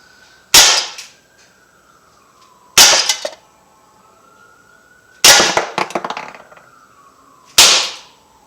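Four sharp, snappy shots from an Umarex SA-10 .177 caliber air pistol, spaced a couple of seconds apart, each a crisp close crack with a short rattling tail, separated by near silence.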